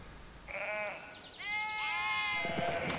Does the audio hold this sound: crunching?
no